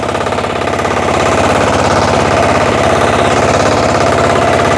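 Motor Sich walk-behind tractor engine running steadily at lowered revs, a loud, continuous close-up chugging idle with a regular knocking pulse and no talk.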